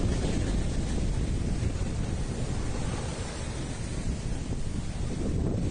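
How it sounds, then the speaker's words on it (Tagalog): Strong wind on a Boracay beach buffeting the microphone with a steady roar, and surf faintly under it, continuous throughout. "Masarap ang hangin."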